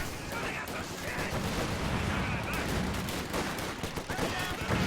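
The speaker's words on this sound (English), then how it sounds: "I suppose the MG42 may be able to shoot through a shitty wooden house." Sustained machine-gun fire from an MG42 in a World War II strategy game match, dense overlapping bursts and shots continuing steadily near and loud throughout, with speech faintly underneath.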